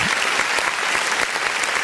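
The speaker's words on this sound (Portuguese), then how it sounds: "vamos dar uma salva de palmas bem forte para o nosso Deus" A church congregation claps together during an online worship service, a dense, loud and even burst of many hands filling the room for a couple of seconds.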